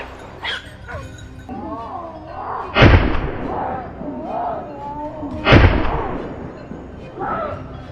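Two loud, sharp gunshots ring out on a mountain slope during a wild boar hunt with hounds, several seconds apart, between whimpering and yipping from dogs nearby.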